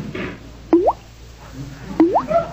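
A faucet drips in a 1945 radio comedy: two distinct, hollow plops spaced about a second and a half apart, close and clear over a faint, quiet background with no talk.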